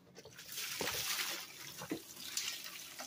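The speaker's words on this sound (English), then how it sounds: "This is cool water just to rinse it off." Cool tap water runs steadily to rinse out a used oil fragrance bottle at a sink, a continuous close splashing stream with a few brief knocks and no talk.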